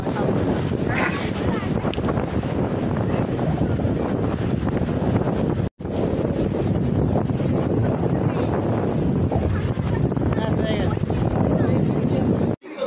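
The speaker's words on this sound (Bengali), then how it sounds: "বিশাল হাওয়া" Strong wind at a beach roars and buffets the microphone continuously, a dense rushing noise with a brief dropout partway through.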